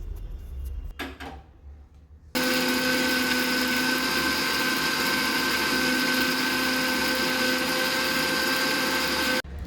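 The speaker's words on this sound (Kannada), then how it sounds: "ಹಾಕ್ಕೊಂಡು ಚೆನ್ನಾಗಿ ನೈಸಾಗಿ ರುಬ್ಬಬೇಕು ಇದನ್ನು" A kitchen mixer grinder grinds roasted red chillies and spices into a fine paste. Its loud, steady motor whine and rattle start abruptly after some quiet handling noise and run unbroken almost to the end.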